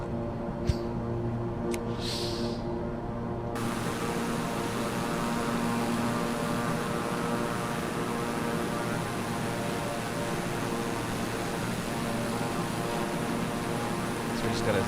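Fixed-wing air ambulance aircraft climbing in flight, heard from inside as a loud, steady engine and propeller drone with a broad airflow hiss running unbroken throughout.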